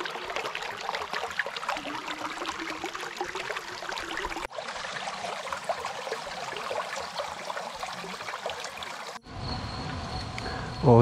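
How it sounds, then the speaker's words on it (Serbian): Water trickles steadily from a stone fountain on the approach to the Tronoša monastery in a forested Serbian setting, a close continuous splashing that shifts briefly in tone. "Ovo je fantastična česma ovdje na samom prilazu manastiru."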